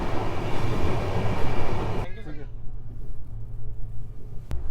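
A passenger train on the Ahmedabad to Udaipur line runs on the rails, loud steady rumble and clatter that suddenly drops to a quieter rolling hum partway through, with a brief sharp knock near the end.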